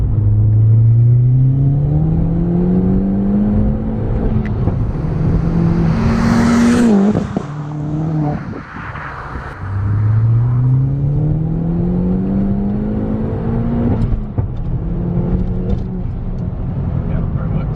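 A modified car accelerates hard, its engine revving up loud and close in two long climbing pulls separated by a brief dip, with rumbling drive noise and voices faintly beneath.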